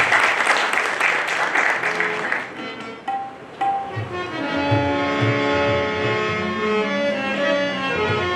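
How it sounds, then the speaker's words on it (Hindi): Church congregation at a Holy Saturday service applauds loudly for about two and a half seconds, the clapping then fading into quieter sounds and a voice that carries on afterwards. "प्रभु की महिमा की हम लोग जोरदार ताली बजाएंगे"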